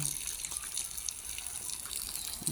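Water splashing and gushing as it is poured over a pregnant pig during a bath, a continuous close splash with a few brief spatters.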